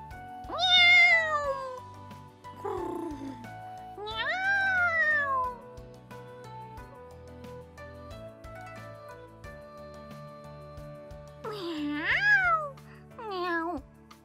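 A female character's voice in a visual novel game imitates a cat, making several drawn-out, meow-like rising and falling calls separated by pauses, with faint background music underneath.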